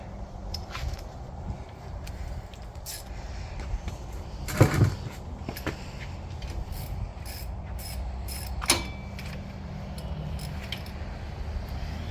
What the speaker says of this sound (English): Now I can just go in with a regular ratchet and 18mm.